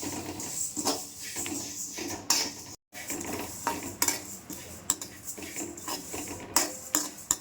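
Cumin seeds dry roasting in a pan, heard as repeated scraping and clinking of a metal spatula against the pan, with a faint sizzle underneath.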